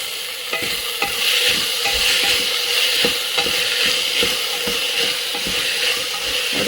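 Chopped tomatoes stir-fried in a pan for dal khichdi, a steady sizzle with frequent spoon scrapes and stirring knocks, close and continuous throughout.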